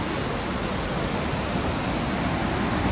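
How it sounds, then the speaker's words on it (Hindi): A swollen mountain river rushes beside the Leh–Manali road in Ladakh, giving a loud, unbroken roar of churning water close by. The wash holds steady throughout with no talk. "सही में इतना पानी आ रहा है ना"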